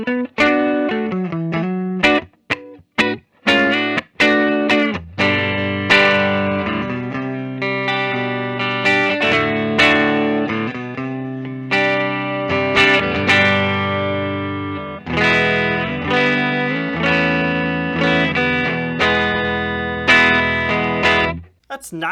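Epiphone Joe Bonamassa Les Paul electric guitar, 2020 model, played through its neck pickup with a distorted, effects-laden tone; a run of struck notes and chords rings out clearly and sustains, with no voices.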